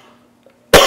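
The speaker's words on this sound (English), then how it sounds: "I'm trying to get through this cough that I've got" A single loud, close cough bursts out at the end of a quiet stretch in a town selectboard meeting room, following faint background murmur.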